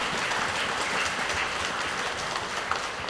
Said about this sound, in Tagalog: bigyan na natin siyempre malakas sa palakpak ang ating sarili sapagkat tayo nanatiling nagtitiwala sa Panginoon